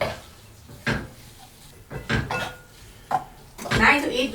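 A pan of Thai aubergine, basil and pork chili-paste stir fry being stirred off the heat, with a few scattered scrapes and clinks of a utensil against the pan, fairly close and intermittent, with brief quiet gaps between.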